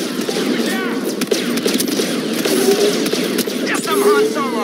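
Rapid blaster fire against stormtroopers in Star Wars Battlefront 2, a run of sharp, close shots with chirping energy zaps over continuous battle noise and background voices.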